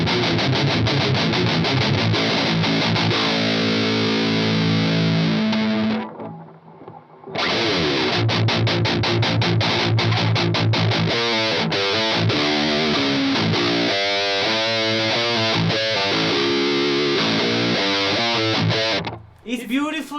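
Loud, heavily saturated tone from a distortion effect, thick and buzzing with sustained harmonic chords, cutting out briefly about a third of the way through and again near the end before returning.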